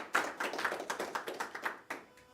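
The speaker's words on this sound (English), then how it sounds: "give her a round of applause" Audience applause at an October 2024 real estate investor group meeting in British Columbia, a smattering of hand claps with uneven rhythm, fairly faint and slightly distant, lasting about two seconds before thinning out.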